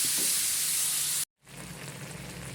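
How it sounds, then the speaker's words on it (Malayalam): Chicken curry gravy bubbling in a pan, a steady dense sizzling hiss that cuts out briefly midway, then resumes slightly softer and continues to the end. "ഇപ്പോൾ ഗ്രേവി നല്ല തിളച്ചുകൊണ്ടിരിക്കുകയാണ്"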